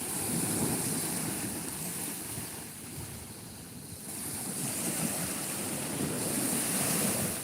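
Sea waves wash steadily onto a shore on a cool morning, a continuous broadband surf with gentle swells in loudness, mixed with wind buffeting the microphone and no voices.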